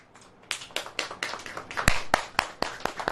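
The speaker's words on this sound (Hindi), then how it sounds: "ताली बजाओ यार।" A handful of people clap at a church sermon gathering, giving about ten sharp, irregular claps that start sparse and grow a little more frequent, fairly close with no talk over them.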